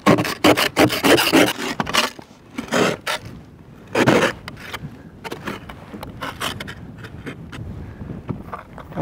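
A JOYTUTUS ice scraper rasps across a frosted car windshield in repeated harsh scraping strokes, strong at first and then thinning into lighter, steadier rubbing, close by with some wind noise.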